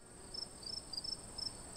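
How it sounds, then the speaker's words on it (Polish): Crickets chirping as a sound effect, repeated thin high chirps in a steady pulse over quiet background hiss, with no talk. "Świerszcze."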